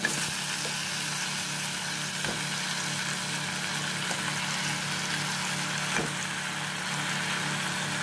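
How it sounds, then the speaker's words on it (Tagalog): Beef feet fry with potatoes in a pan for adobo, giving a steady, close sizzle and hiss throughout with a few faint clicks and stirring knocks, no voices. "Saka natin lalagay yung paa ng baka."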